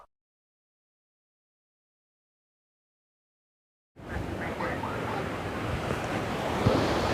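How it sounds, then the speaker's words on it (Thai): A cool wind blows outdoors, its rushing, gusty roar cutting in abruptly after several seconds of silence and buffeting the microphone steadily, with no voices. "ลมพัดเย็นจ้อยๆเด้อ"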